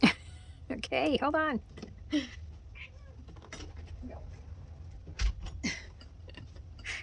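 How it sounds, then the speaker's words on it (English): A house cat named Callie meows close by, giving a couple of distinct wavering meows followed by smaller chirps, while a person speaks briefly. "She's got a completely different meow to Mia."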